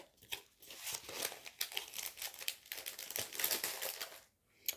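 Packaging of a diamond painting kit from Centrakor is opened with crinkling, tearing plastic and paper, a close, busy rustle in short bursts before a brief pause near the end.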